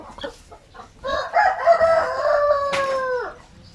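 A Peruvian fighting cock crows one long, loud, close cock-a-doodle-doo that rises and trails off, with a few soft clucks from native chickens before it.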